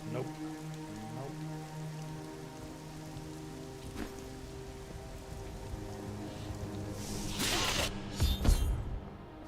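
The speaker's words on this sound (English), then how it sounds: "Good to get in out of the rain." Steady rain pattering in Diablo 3, a constant hiss with broad wash running throughout, joined near the end by louder whooshing bursts and a sharp crash.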